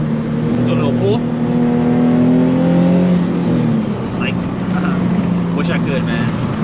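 A tuned turbocharged Nissan 350Z with a slight exhaust leak pulls hard, its engine roar rising through the revs, loud and close, with a brief shift near the end.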